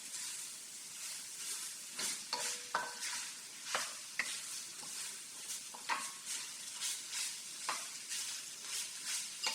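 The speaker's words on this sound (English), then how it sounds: "I'm going to add my meat back into the pot, okay? And I'm going to stir it, just like this." Meat pie filling being stirred in a pot over very low heat, the spoon scraping and clinking steadily against the pot in irregular strokes over a soft continuous sizzle, close and without talk.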